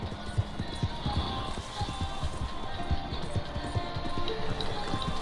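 Rhythmic clip-clop of horse hooves trotting steadily in Red Dead Redemption 2, fairly close, with faint talk and game ambience underneath.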